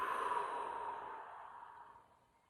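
A person breathes out slowly and evenly during a calm belly-breathing exercise: a soft, airy exhale, close and quiet, that fades gently over about two seconds with no talking.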